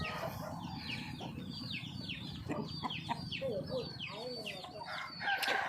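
A fighting rooster at a farm clucks and calls in quick, repeated bursts against steady background noise, with other fowl nearby and someone speaking at times.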